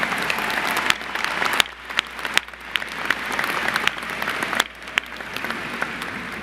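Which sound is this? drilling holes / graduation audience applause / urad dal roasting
graduation audience applause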